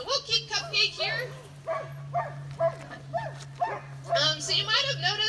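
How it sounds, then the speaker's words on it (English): Alaskan Husky sled dogs at a Denali National Park demonstration bark and yip in a rapid, overlapping chorus, fairly close, with a steady hum underneath. "They're all Alaskan Huskies."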